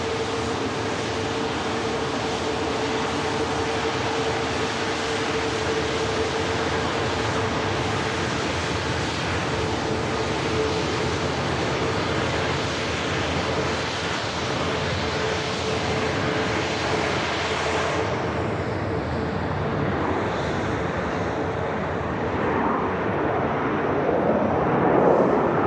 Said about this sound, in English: Virgin Atlantic A350-1000 filling your screen as it taxis past us at the incredible runway visit park.